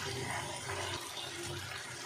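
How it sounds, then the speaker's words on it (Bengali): Spice-bowl rinse water is poured into a pan of sautéed pointed gourd, making a steady rushing splash that lasts about two seconds. "এবার একটু জল দিয়ে দেবো"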